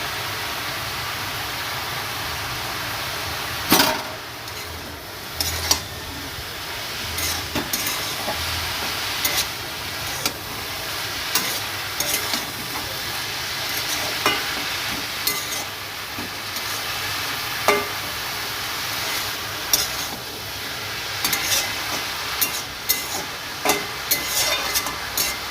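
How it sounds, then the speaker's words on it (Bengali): Green chilies frying in a pan are stirred, giving a soft, continuous sizzle broken by scattered scraping clicks of the utensil against the pan. "কাঁচা লঙ্কা দেওয়ার পর আবার একটু নাড়াচাড়া করে নেব।"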